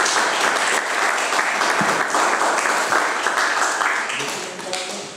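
An audience applauds at an awards event at a Kashubian culture museum, dense sustained clapping that fills the whole stretch and tapers slightly at the end, with a voice briefly heard over it.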